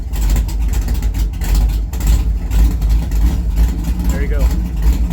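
Engine of a Trooper car idling after its fuel tables were leaned out, a steady, loud low rumble with slight surges, heard close with a voice speaking over it.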